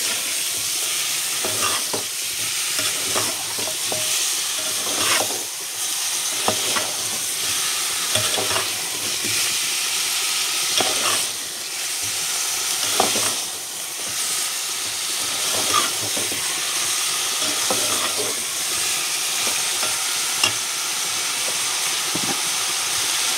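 A country chicken gravy curry sizzles and fries steadily in a pan while a spoon stirs it, scraping and clinking now and then over the constant loud hiss.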